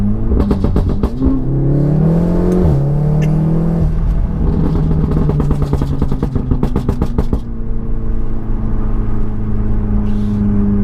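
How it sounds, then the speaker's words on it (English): A tuned 460 bhp VW Golf R with all-wheel drive accelerates hard. The loud, close engine drone climbs in pitch through several gear changes, with rattling bursts between shifts and no talk. "A Golf should not move that quickly."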